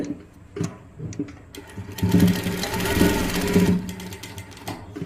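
A sewing machine stitches a V-shaped seam, starting with a few short stuttering runs, then a loud, steady whirring run in the middle before slowing to brief bursts, heard up close.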